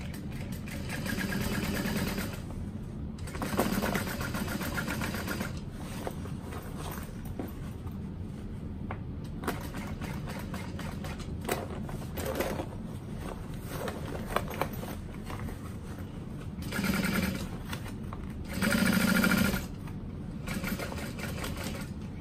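Sewing machine topstitching a barrel bag at a long stitch length, running in quiet, intermittent stretches with handling and fabric rustle between them, plus a couple of louder short bursts near the end.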